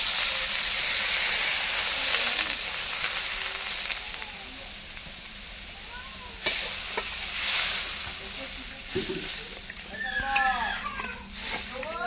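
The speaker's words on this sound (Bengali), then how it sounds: "এবার জল দিয়ে দেবো।" Mustard-oil fish curry sizzling and hissing loudly in a pan as water goes in, the sizzle easing into a steady bubbling hiss with occasional clinks of stirring.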